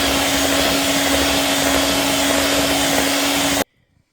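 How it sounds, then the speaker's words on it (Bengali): An electric mixer whirs loudly and steadily while blending mascarpone cheese for tiramisu, a constant motor drone with a strong hum that cuts off abruptly near the end, leaving silence. "মিক্সিতে একটু গড়িয়ে নেব।"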